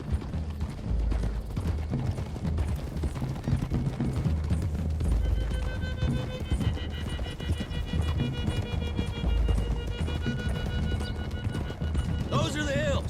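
Several horses gallop in a Red Dead Redemption 2 scene, a dense continuous thunder of hooves pounding nearby under voices and music, with a brief whinny near the end.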